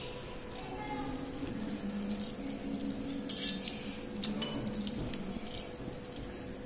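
A metal spoon cuts through stacked wheat-flour chapatis to make chips, giving faint light scraping and clinking sounds against a plate, with a quiet background hum.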